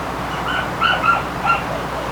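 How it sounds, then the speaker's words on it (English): A female dog in another room whimpers and yips softly, giving a few thin high whines over a quiet room. "Sorry about hearing the dog."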